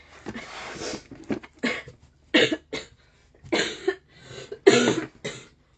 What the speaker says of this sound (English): because of this horrible cough